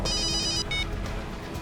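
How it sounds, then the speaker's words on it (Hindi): A telephone rings with a bright electronic trill, two bursts separated by a short gap, loud and close over a low background hum. "दया सर का फोन।"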